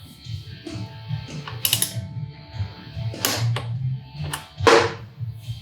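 A wrench torquing the front axle of a Kawasaki Ninja 400 motorcycle during a fork brace install: close irregular ratchet clicks and metallic clatters in short bursts, with brief louder knocks.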